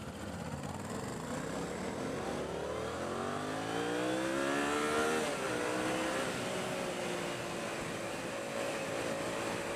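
A Yamaha motorcycle pulls hard, its engine note rising steadily and then dropping at a gear change, heard from the rider's position under constant wind rush.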